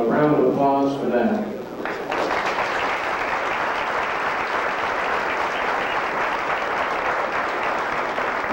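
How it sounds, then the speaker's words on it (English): Audience applause for players at a women's pool match, steady and fairly loud clapping from a crowd that follows a short burst of voices at the start. "I think they deserve a round of applause for that."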